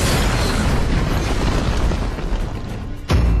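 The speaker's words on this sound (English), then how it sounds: "Your team has destroyed a tower!" A tower crumbling in the Arena of Valor mobile game, a heavy booming explosion with a dense rushing roar that tails off, then a sharp second burst near the end.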